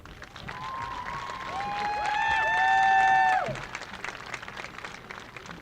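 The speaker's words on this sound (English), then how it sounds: "I want you, the seniors, graduating class of 2024, to give them a round of applause." A graduating class of seniors applauds at a 2024 high school commencement ceremony, a broad crowd clapping that swells to a peak midway and then fades, with sustained musical tones ringing above it.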